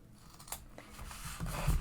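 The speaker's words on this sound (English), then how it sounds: "I am going to cut my corners at a diagonal" Scissors snip through fabric, clipping the corners of a sewn wristlet at a diagonal, with a few quiet, close cuts and light handling of the cloth and no talk.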